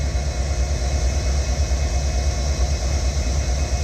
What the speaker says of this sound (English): we got a train coming out of Greenwood.